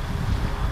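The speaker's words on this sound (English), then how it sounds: "We'll wait for the gust to go away." A brief gust of wind buffets the microphone, a low, steady rumble with no voices.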